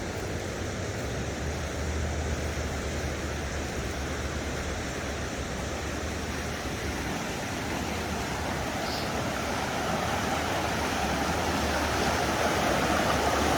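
Swollen floodwater rushing fast past a riverbank near a home, a steady loud broadband roar of churning water, continuous and close with no talk.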